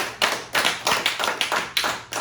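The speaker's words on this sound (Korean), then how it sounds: "하나님께 영광 박수" A small group claps in a steady, rhythmic beat of sharp, close slaps, about three or four per second, with no voices.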